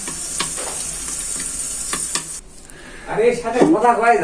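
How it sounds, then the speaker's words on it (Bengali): Fish roe fries in a covered pan, crackling loudly and steadily, then the sizzle drops away and a person starts speaking. "এইভাবে ঢাকনা দিয়ে দিয়ে মাছের ডিমটা ভাজতে হবে"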